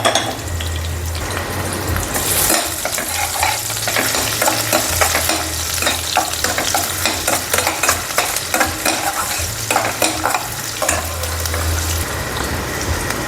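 Chopped onions sizzle and fry in hot oil with curry leaves, fenugreek and green chillies, stirred now and then. The frying is loud and steady, with a bubbling crackle that runs throughout.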